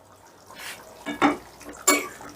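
A spoon stirs Hyderabadi chicken curry in a pan, giving three soft, close scraping strokes with wet, thick squelches in between, on a quiet background.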